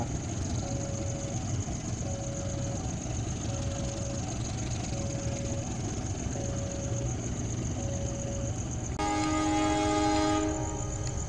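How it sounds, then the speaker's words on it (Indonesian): Loud, continuous rumble of a night passenger train passing straight through Cibatu station in Garut, Indonesia, with a repeating chime and a steady high whine, then a brief blaring horn near the end. "kereta api Kuto Jaya Selatan melintas langsung tepat pukul 22 lewat"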